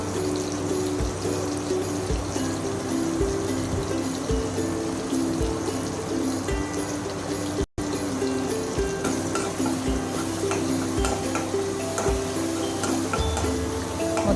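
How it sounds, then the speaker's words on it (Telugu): Chopped tomatoes with salt and turmeric fry in a pan for uggani, giving off a steady, even sizzle that runs unbroken throughout with faint ticking crackles. "మొత్తం బాగా కలుపుకొని టొమాటోలు మగ్గే వరకు బాగా ఫ్రై చేసుకోవాలి"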